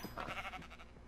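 Sheep in the video game Minecraft bleat in a short, wavering call that lasts about a second, fairly close and alone with no talk over it.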